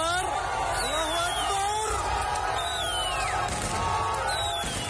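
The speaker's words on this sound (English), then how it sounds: "people cheer and fire their guns toward the sky as a statue of President Bashar al-Assad's father is toppled in Hama" A crowd in Hama cheers, yells and whoops as a statue of Assad's father is toppled, a loud, continuous mass of shouting voices close by.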